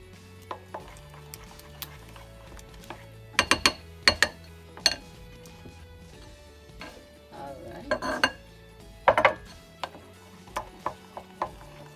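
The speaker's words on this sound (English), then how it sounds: "So just keep mixing until all the lump is gone" Peach cobbler batter is mixed in a bowl, with scattered clinks and knocks of a utensil against the bowl, some in quick bursts, over a quiet background.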